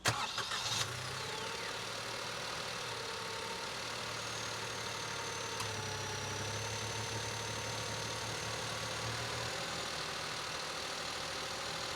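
A 2024 Maruti Swift ZXI hatchback engine turns over and starts, then idles steadily with a low, constant hum for several seconds, no voices.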